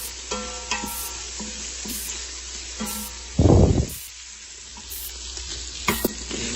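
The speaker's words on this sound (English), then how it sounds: "Okay, we just added the onions in." Onions sauté in an Instant Pot beside collard greens, a soft sizzle with a clatter of stirring, one loud burst of spray or hiss partway through, and a few utensil clinks, with no one talking.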